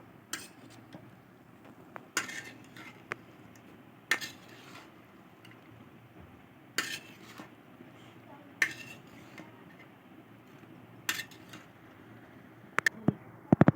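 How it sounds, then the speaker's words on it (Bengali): Potato pieces and Malabar spinach stalks are stirred in a cooking pan with shrimp, with a spatula striking and scraping the pan in sharp, intermittent clanks over a soft background sizzle. "এবার সবজিগুলো ভালো করে নেড়ে দিব।"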